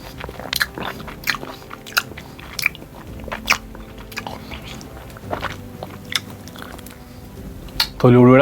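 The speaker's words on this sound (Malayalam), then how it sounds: "ഇത് ഞാൻ തൊലിയും കൂടി കഴിക്കാം." Repeated crisp bites and wet chewing of an Alphonso mango eaten with its skin on, close to the microphone, with steady crunchy bursts throughout before a voice begins right at the end.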